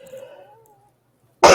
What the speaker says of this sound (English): I think that this is making me cough